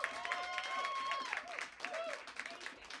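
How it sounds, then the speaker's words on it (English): Audience applause and cheering at a comedy show venue, a steady wash of clapping for about three seconds with a few whoops and voices rising over it. "Give yourself a round of applause."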